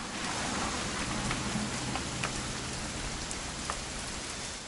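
Steady rain falls in What Remains of Edith Finch, a dense, even patter on surfaces with a faint low hum underneath, no talk heard.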